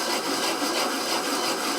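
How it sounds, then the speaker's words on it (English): Copper ingot melted from wire being sanded by hand, a continuous harsh abrasive rasp up close, steady and loud with a slight back-and-forth rhythm and no voices. "we're going to sand this down a little bit"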